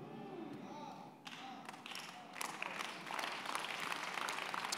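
A congregation claps during a church sermon, starting faint and scattered, then building into louder, sustained applause with dense overlapping hand claps in a large room.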